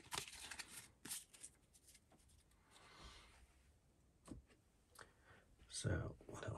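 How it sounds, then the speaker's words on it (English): Narrative action cards for the This War of Mine board game being shuffled by hand close up, a few soft riffling bursts and quick papery clicks separated by quiet gaps, with a voice talking softly between them. "Narrative actions, shuffle those up a little bit."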